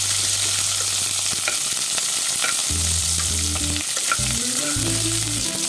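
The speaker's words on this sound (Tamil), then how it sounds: "அதை போட்டுட்டு நல்லா நம்ம வந்து வதக்கி விட்டுடுவோம்" Sliced onions being sautéed in a pan give off a loud, dense sizzle that fills the whole stretch, with faint stirring scrapes and a low humming tone underneath.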